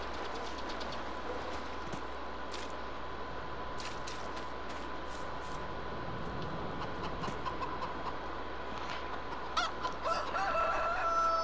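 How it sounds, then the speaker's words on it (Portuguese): A rooster and four hens on a small farm, the rooster crowing and the hens clucking at a distance over a steady outdoor background hum, with no talk. "Quatro galinhas e um galo."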